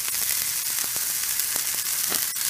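Fish fillets for tacos sizzle steadily in a hot pan, a loud, dense crackle with occasional sharper pops, close and continuous with no talk.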